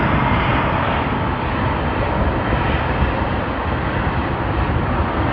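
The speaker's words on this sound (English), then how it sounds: "Thai Airways TG476 has already begun its takeoff roll" A Thai Airways airliner on its takeoff roll at Sydney Airport gives a loud, steady roar of jet engines that holds constant throughout without pause.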